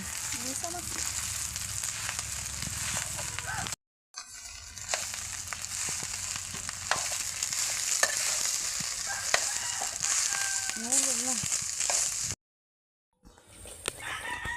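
Leftover rice stir-fried in a pan for breakfast fried rice, a steady close sizzle running through most of the stretch with two brief drop-outs, roosters crowing and hens clucking in the background.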